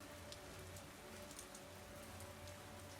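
Steady rain falls in a scene from the TV series Alice in Borderland, a dense, even hiss of drops hitting the ground with no breaks or voices, constant and close throughout.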